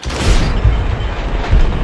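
Deep, rumbling booms and crackling blasts from slow-motion explosions in Max Payne, heavy and dense, rolling together in a sustained low roar.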